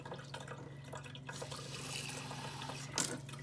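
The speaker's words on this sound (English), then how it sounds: "So I'm just going to gently pour water on it rather than douse it." Water gently poured from a glass over fragile cyanotype paper in a sink, a soft continuous trickle and splash with a brief louder splash near the end.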